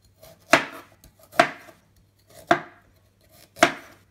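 A knife cuts through peeled ginger on a board in four distinct, evenly spaced chops, each a crisp thud with a short crunch, close and fairly quiet, with faint small clicks between.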